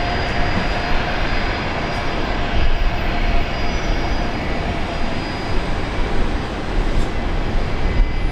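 An airliner on a direct flight from Manila at Brisbane Airport gives a continuous, loud, broad jet roar that stays steady throughout with no voices.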